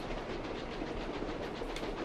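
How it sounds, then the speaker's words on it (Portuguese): A train departs in the Captain America: Super Soldier video game. It gives a steady, faint rolling clatter of wheels on rails that runs on evenly without pause. "O trem foi embora, ó."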